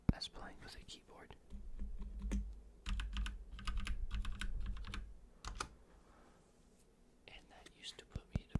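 ASMR keyboard typing on a computer keyboard, close and soft, with bursts of crisp key taps and clicks separated by quiet pauses, and faint whispery breaths in places.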